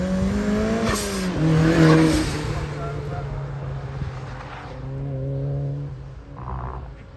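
A Nissan 350Z works around the Curborough Sprint figure-8 circuit, its engine note rising and falling through revs and gear changes, loud and close, with a voice talking over it.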